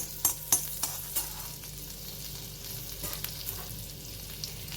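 Chopped garlic and green chili sauté in a pan with a soft, steady sizzle, broken by occasional sharp taps and scrapes of stirring.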